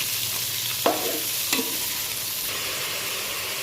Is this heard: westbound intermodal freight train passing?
no